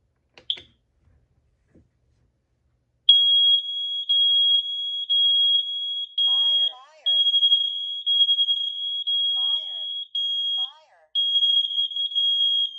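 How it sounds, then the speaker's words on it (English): Kidde wireless interconnected smoke and carbon monoxide alarms sound after a test button press, giving a loud, piercing high tone in long repeated bursts with short gaps, while a voice speaks faintly underneath. "push the button on one of the alarms and see if they receive the signal"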